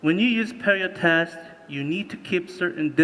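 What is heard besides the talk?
None of the usual background noises is heard.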